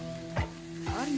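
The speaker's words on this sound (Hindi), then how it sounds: "और अब हम इसमें गूंदे हुए आलू को इसमें डाल देंगे" Mashed potatoes go into a hot spiced pan for aloo paratha filling, bringing a soft continuous sizzle with two brief scraping stir strokes over a steady background hum, no voices.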